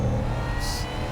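A supercharged 800-horsepower Ford Mustang Dark Horse CS800DH V8 revs hard in a short, loud, close burst of engine roar, heard alone.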